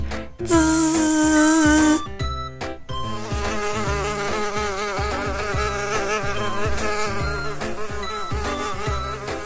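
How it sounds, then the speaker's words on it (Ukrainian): A fly buzzes loudly and continuously near the listener, its droning whine running for several seconds over a musical background. "Муха дзищить."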